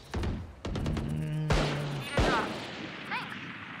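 Gunshots in Valorant or Counter-Strike 2, a few sharp cracks spaced over a few seconds amid game effects and ringing tones, with a voice heard briefly.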